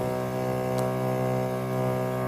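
A battery-powered pump inflates a self-inflating tent, giving a steady, close, even mechanical hum that runs unchanged throughout with no talk.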